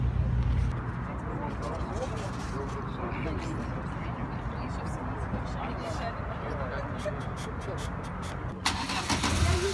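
A race car engine at a mountain race near Simeiz in Crimea roars throughout under loud crowd chatter and nearby talk, a continuous rumble with brief rises.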